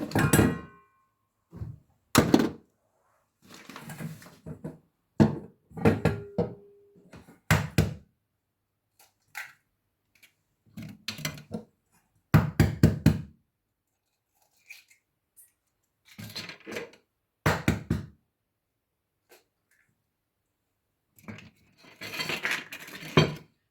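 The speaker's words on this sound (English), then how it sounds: "these are 3 eggs. 3 eggs. I'm going to break them and put them in the mixture." Eggs are knocked and broken against a bowl for lemon marble cake batter, sharp close taps and clinks in irregular bursts separated by silent gaps, with no one talking.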